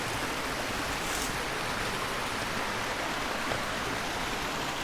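Water of Phillips Branch, a creek in Caldwell County, rushes in a steady, broad hiss, close and continuous with no pauses and no voices.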